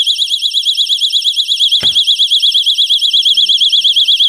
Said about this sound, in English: hear that beep? That's setting it.